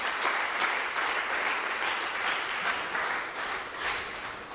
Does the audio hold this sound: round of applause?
yes